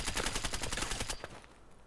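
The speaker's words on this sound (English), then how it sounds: "the sniper scav was shooting an AK" AK rifle gunfire in Escape From Tarkov, a quick automatic burst of about a dozen sharp shots at moderate distance, ending abruptly with a short fading tail.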